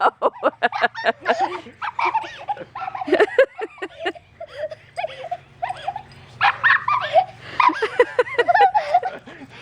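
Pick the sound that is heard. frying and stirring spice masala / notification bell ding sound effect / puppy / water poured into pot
puppy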